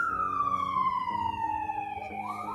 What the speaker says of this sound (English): If you hear the ambulance, I apologize.